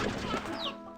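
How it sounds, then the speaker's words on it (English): Candy hens cluck in the Slime Rancher 2 video game, a short burst of close, busy fowl clucking over a steady layer of game background sound. "Let's grab these chickens"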